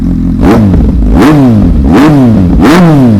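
A 2016 Kawasaki Z800 sport motorcycle's four-cylinder engine revs hard in four sharp bursts, each climbing and falling back, loud and close with a steady rumble between.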